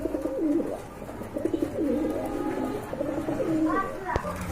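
Bombay pigeons coo in repeated low, rolling phrases close by, several birds overlapping steadily, with a brief sharper call near the end.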